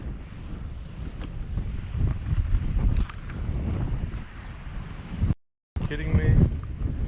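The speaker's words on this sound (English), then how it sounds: "the wind is ripping" Strong wind buffets the microphone on a lake during bass fishing, a loud, continuous rushing roar with a brief dropout near the end.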